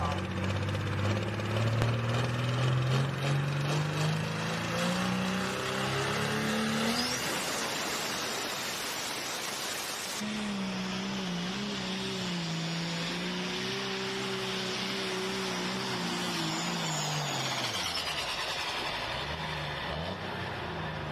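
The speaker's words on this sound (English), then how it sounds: "Hot Farm tractor starting it off." A hot farm tractor in a tractor-pull sled competition roars loudly and continuously, its engine pitch climbing steadily and then surging again for the full pull, with a crowd and an announcer's voice underneath.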